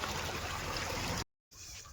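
Irrigation water trickles and splashes steadily across a farm plot of guar, sorghum and okra. The hiss cuts off abruptly for a moment, then resumes more softly, with no one talking.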